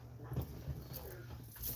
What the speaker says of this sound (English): Oh, I have to go let my dog out.